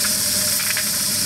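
Steam hissing during a water heater steam test, a loud, steady broadband hiss with a faint rattling undertone, continuous and close, with no talking.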